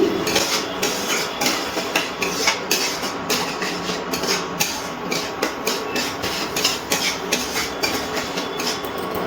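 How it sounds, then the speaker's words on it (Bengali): A utensil scrapes and knocks against a pan while prawn curry gravy with yogurt is stirred, giving a busy run of metallic clinks and scrapes at a steady, close, fairly loud level. "এবার খুব ভালো করে আমি নাড়াচাড়া করে নিচ্ছি"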